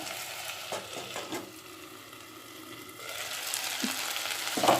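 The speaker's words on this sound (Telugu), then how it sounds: "ఇప్పుడు ఈ అల్లం పచ్చిమిర్చి పేస్ట్ను కూరలో వేసుకుందాము" Ginger and green chili paste drops into a bottle gourd buttermilk curry, giving a soft, quiet sizzle with faint stirring and scraping, no voices.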